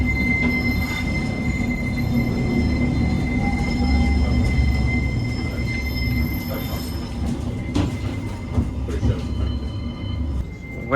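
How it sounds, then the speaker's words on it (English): A West Midlands Metro tram's wheels squeal on the rails, a loud, continuous metallic screech over rumbling running noise for about eleven seconds. "This tram terminates at Edgbaston Village."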